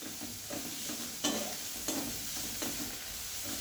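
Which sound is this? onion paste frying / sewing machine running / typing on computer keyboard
onion paste frying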